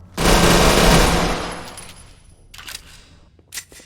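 An automatic weapon fires in Fallout 4 during a survival-mode weapons test, a loud sustained burst that rattles for about a second and a half, then trails off into echoing decay with a few faint mechanical clicks and clatter afterward.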